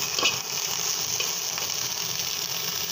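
Small ichha fish frying in a pan: a steady, moderately loud sizzle with crackling and spattering that runs throughout, with no voices.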